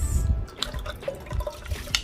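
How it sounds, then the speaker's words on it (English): Rice is poured into a pot of water for a sweet coconut rice dish, giving soft splashing and trickling with scattered small drips, fairly quiet and close. "I'm going to add my rice."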